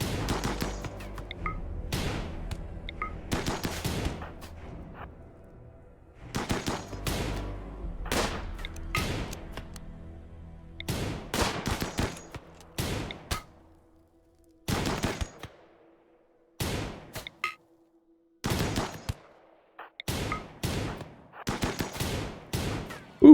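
Gunfire crackles during a raid in the RimWorld colony game, arriving in bursts of rapid shots separated by short silent gaps, loud and close, with no talking.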